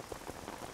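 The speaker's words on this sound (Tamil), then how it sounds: "வெளியே ஒரே மழையா இருக்கு" Heavy rain pouring outside, a steady, even hiss of drops on surfaces heard faintly and alone, with no talking.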